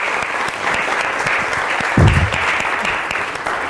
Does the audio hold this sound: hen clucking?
no